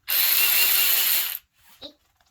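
A battery-powered ratchet whirs loudly and steadily for about a second while removing nuts, then stops abruptly, followed by a faint clink of metal.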